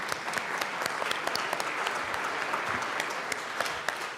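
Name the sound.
applause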